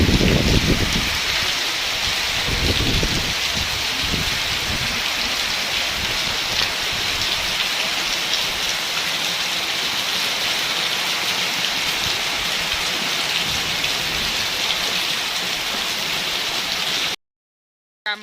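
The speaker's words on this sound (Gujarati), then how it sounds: "ગામમાં તો ફૂલ વરસાદ જોઈ શકો છો" Heavy rain pours down on a village street, a dense, loud, unbroken hiss of drops hitting surfaces that runs without a break for the whole stretch before cutting off abruptly near the end; no one speaks.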